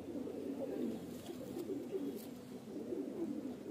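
A pair of black Andhra pigeons, cock and hen, coo steadily from close by: low, throaty, overlapping rolls that carry on without a break and without voices.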